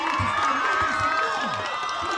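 A high school football crowd at Bonita at Muir roars and shouts steadily as the Mustangs close out the game in victory formation, a dense wash of distant cheering with scattered voices rising above it.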